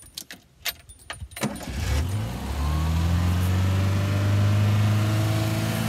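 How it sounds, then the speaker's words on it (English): Keys jangle and click briefly, then a car engine starts and revs on its own from a stuck throttle, holding a loud, steady high idle that keeps droning up close. "It just keeps revving."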